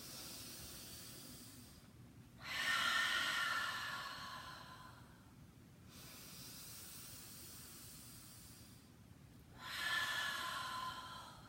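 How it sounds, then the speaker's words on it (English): Deep, slow breaths from a breathing exercise: two long, airy hissing passes, each lasting a few seconds and separated by quieter pauses, close to the microphone with no talking. "Take some few breaths right now as we continue."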